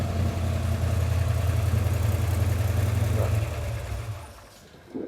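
A hot rod's engine idles with a deep, even burble that stays close and steady, then fades toward the end of the clip.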